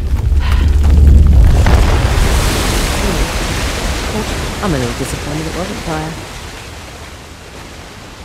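Steady rushing roar of a waterfall in the video game Uncharted: The Lost Legacy, loud and broad at first and easing slightly, with people chatting over it throughout.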